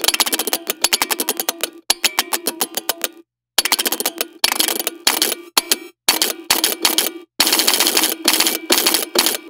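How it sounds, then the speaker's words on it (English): An electromechanical shaker/guiro built from heavily modified test equipment, picked up through piezo contact microphones: loud, rapid rattling bursts of clicks like a machine gun or typewriter, in rhythmic runs separated by short silences. "So now you're going to hear the direct recording from the piezo contact microphones."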